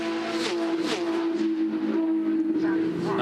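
Porsche Carrera Cup race cars at Bathurst scream past with high, sustained engine notes that rise and shift as they accelerate, loud and close, with a commentator talking over them.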